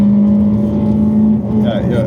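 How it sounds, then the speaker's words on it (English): A Peugeot 205 closes in from behind on the Nordschleife in a racing simulator, giving a steady, loud engine drone that holds one pitch throughout, with a brief higher whine near the end. "Now it's the Peugeot 205 coming up from behind."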